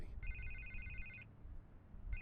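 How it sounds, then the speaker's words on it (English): A telephone ringing in a Batman video game on Xbox One, two electronic rings heard, one long and a second starting at the end, fairly quiet over a low background hum. "I can't get the phone to stop ringing."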